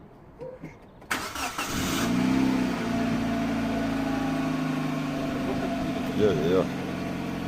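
A car engine idles and hums steadily at night with a low, sustained drone after an abrupt start, holding level for several seconds before a brief swell near the end; faint background voices and music sit under it.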